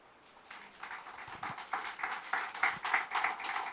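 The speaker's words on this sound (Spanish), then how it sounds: "¿Alguien le puede dar palmas al Señor?" A church congregation claps hands together in a faint, distant patter of irregular claps that builds gradually and continues for several seconds.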